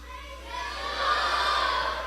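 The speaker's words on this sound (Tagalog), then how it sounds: "Yan ay sigaw ng pagtatagumpay." A church congregation at an anniversary service shouts together in a sustained, swelling roar of victory that grows louder toward the end, filling the hall.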